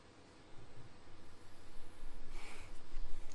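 A few close, soft nasal sniffs and breaths over a glass of mango hibiscus Belgian white nitro beer, rising slightly in loudness, with no talk.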